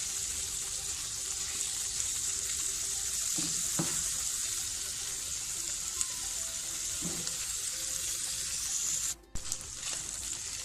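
Chicken filling for patties cooks in a pan over a medium flame as a spoon stirs it continuously. A steady, close hiss of frying carries throughout, with occasional soft scrapes of the spoon and no talking.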